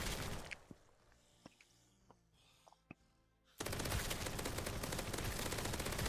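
AK rifle fire in the Roblox game Zombie Rush Survival: a few scattered single shots over quiet game ambience, then a sudden loud burst of rapid continuous gunfire.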